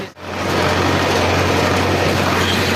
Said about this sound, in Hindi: क्योंकि ट्रैक्टर दी आवाज थोड़ी ज्यादा होसी